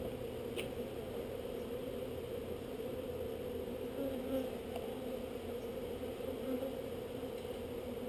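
A dense, steady hum of honey bees swarming close by during an eco-friendly removal of a colony from a wall, continuous and moderately loud with no talking.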